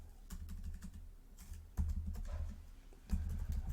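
Typing on a computer keyboard during a Linux terminal session, with irregular clusters of soft clicking keystrokes and a few heavier key thumps, close and steady with no voices.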